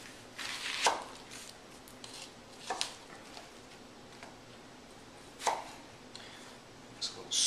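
A knife chops red onion coarsely on a cutting board in a home kitchen, a few scattered soft thuds over a quiet room hum, faint and spaced out rather than a steady rhythm.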